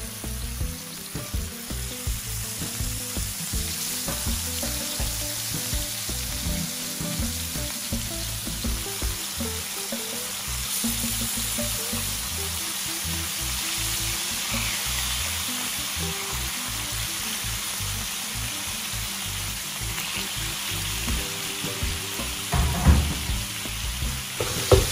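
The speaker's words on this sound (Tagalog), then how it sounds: "Now let's fry our rabbit meat." Rabbit meat frying in hot oil, a dense, continuous close sizzle that holds steady throughout, with a few louder pops and crackles near the end.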